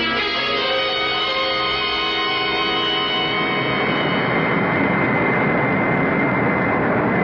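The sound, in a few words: airplane engine in flight, radio drama sound effect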